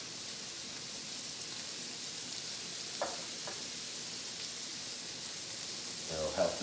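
Vegetables simmer in a pan for a low-carb keto shepherd's pie, giving a faint, steady sizzle and crackle with a few soft clinks of stirring near the end.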